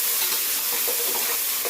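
Ginger garlic paste stirred in a hot cooking pan, a steady broadband sizzle with soft scraping of the spoon, close and continuous, no voices.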